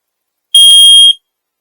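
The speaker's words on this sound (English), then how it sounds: "So we always check the smoke alarm and the carbon monoxide." A smoke alarm under test inside a hire van lets out one loud, close, shrill electronic beep of about half a second. No other sound is present.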